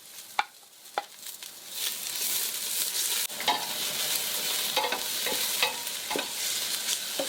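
Garlic and ginger frying in a pan for a spicy Bicol Express, with steady loud sizzling and repeated sharp scrapes of a spatula stirring throughout.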